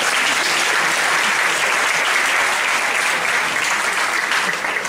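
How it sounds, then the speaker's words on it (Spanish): Loud, steady applause from a lecture audience, clapping continuously at full strength throughout with no pauses. "Un aplauso para ti."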